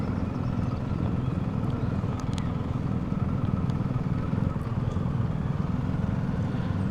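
A BMW R1250GS Rallye TE motorcycle ridden through the Pennines, a steady engine drone mixed with heavy wind rumble, constant and close, without obvious gear changes.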